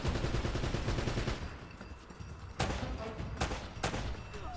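Rapid gunfire from enemy soldiers and a mounted turret in Uncharted: Drake's Fortune, a dense clattering burst that eases off, then sharp, loud single shots crack out alongside continued firing.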